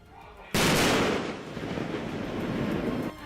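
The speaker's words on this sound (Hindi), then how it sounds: "दूसरे ने गोला दागने का आदेश दिया, जिसके बाद हुए जोरदार धमाके से सब थर्रा उठे" A single loud artillery shell blast during a military drill, hitting suddenly and then rolling on as a sustained, rumbling roar that lingers for a few seconds before cutting off.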